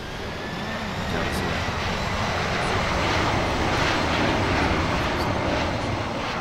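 A loud, steady aircraft engine roar drones continuously in the Infinite Flight simulator as the plane comes in to land on runway 12, with a voice speaking over it.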